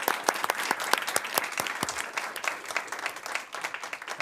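People at a city council meeting clap for two dancers, a lively round of sharp, close hand claps that thins slightly toward the end, with faint crowd murmur beneath.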